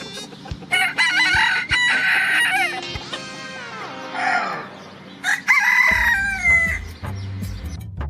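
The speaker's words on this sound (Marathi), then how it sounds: "लाल कोंबडा किती मोठा आहे" A large red rooster, said to weigh about 2 kg, crows loudly and close by in a series of long drawn-out calls, with clucking and farmyard noise between them and no speech.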